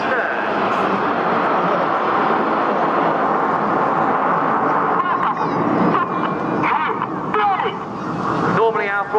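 RAF Red Arrows jets flying in formation at a seaside air show, a loud continuous roar of engines that shifts in pitch as they pass, with a voice talking over it.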